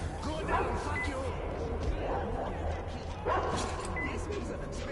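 Dog barking and yipping in the video game Metro Exodus, a few sharp barks and whimpers mixed with game noise and voices talking throughout.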